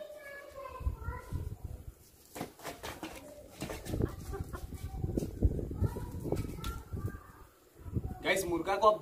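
A rooster and hens on a house rooftop give soft clucks and coos in short bursts, intermittent and fairly faint, mixed with people talking and a voice nearby.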